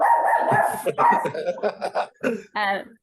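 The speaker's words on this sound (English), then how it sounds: "We have just taken on a rescue dog who just sees her dad coming." A rescue dog indoors gives a run of excited, happy barks and yips in quick uneven bursts, close and fairly loud, with a person's voice mixed in.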